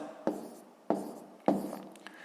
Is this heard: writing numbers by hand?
yes